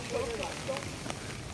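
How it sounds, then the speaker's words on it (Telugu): Heavy rain pours steadily across Sandip University's campus, a dense, constant hiss with scattered louder drops, close and even throughout. "మనకైతే ఇప్పుడు బాగా వర్షం పడుతుంది."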